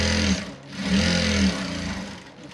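A sewing machine stitching pant fabric runs in short bursts of fast, humming motor drive separated by brief pauses, close and fairly loud with no speech.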